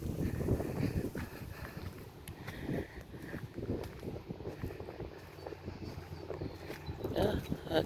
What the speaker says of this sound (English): Now y'all can hear the wind more than y'all can hear me.